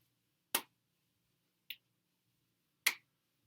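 Three sharp, isolated hand claps ring out in a quiet room during a side-step warm-up, spaced roughly a second apart, each a crisp snap with a brief decay.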